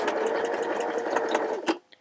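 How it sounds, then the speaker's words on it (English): A Sterling by Janome sewing machine runs a close, steady stitching whir while sewing a quilt seam at a quarter-inch mark, then reverses and stops abruptly with a final click. "I'm using the Sterling by Janome Audi sewing machine that I'm testing"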